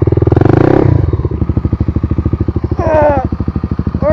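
A heavy motorcycle on a motovlog ride: a loud, close engine with a fast pulsing throb that rises at the start, then settles into a steady rhythmic idle, with a few clattering bursts.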